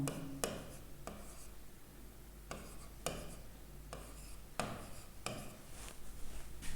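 Chalk or marker strokes on a board during a maths lesson, a series of short scratchy scrawls in bursts with brief pauses between them, close and fairly quiet.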